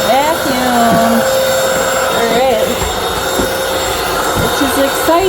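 A cordless vacuum cleaner runs steadily with a loud, continuous motor whine and airflow hiss that holds the same level throughout, while voices talk briefly over it.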